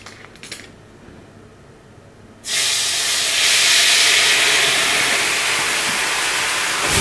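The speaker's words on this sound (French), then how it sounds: "Donc moi je vais déglacer avec du cognac." Beef rump steak pan deglazed with cognac: after a quiet stretch, a sudden loud, broad hissing sizzle bursts in and sustains steadily for several seconds, close and alone with no talk.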